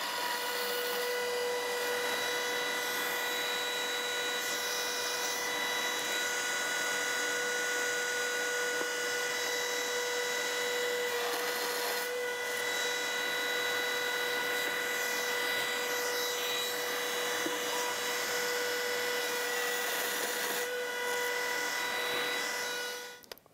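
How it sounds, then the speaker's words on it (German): A router milling dovetail joints in wood gives a steady, loud, high-pitched whine that runs continuously and close, with tonal lines held throughout and a few brief shifts as the cut progresses. "Und dann geht es auch schon los mit dem Fräsen."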